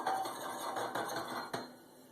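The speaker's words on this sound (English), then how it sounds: "You can hear it sizzling in there." Wet gold grains drying in a hot pan give a steady, close hiss and crackle, with scattered metallic clinks and scraping as the pan is worked, no voices.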